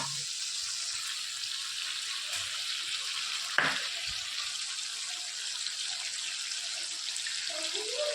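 Masala frying in a pan on a gas stove as it is stirred and mixed, a steady close hiss of sizzling with a brief scrape of the spoon midway, no talking.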